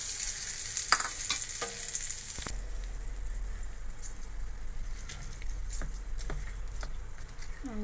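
Tempering of curry leaves and spices dropped into hot oil for a dried red chilli and tomato chutney gives a sharp burst of hissing sizzle, then settles into steady close frying crackle with scattered pops.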